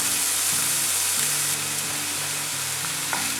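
Chopped onions hit a hot pan and set off a steady, loud sizzle, with a constant bright hiss over a low hum and no speech.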